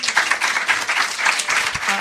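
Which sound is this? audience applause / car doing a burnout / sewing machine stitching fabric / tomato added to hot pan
audience applause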